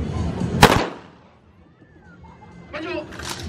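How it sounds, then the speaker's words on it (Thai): A single loud blank-fire shot cracks out at a children's day show on an Air Force base in Ubon Ratchathani, Thailand, followed by crowd murmur and a voice calling over a loudspeaker. "ยิงหลอกนะครับ ระวัง"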